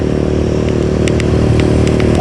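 A motorcycle ridden on the road roars loudly and continuously up close, with rattly engine texture and a few faint clicks on top.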